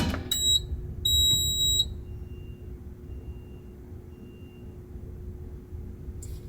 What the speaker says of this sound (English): we've disabled the tracking supervisory fire alarm in garage building B